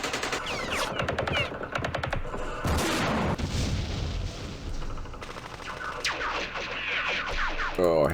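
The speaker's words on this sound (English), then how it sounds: "Machine gun." Rapid machine-gun bursts crackle in the Vietnam war game Campaign Series Vietnam, loud and close, with dense repeated volleys, a heavier boom near the middle and whistling, chirping effects between the runs of fire.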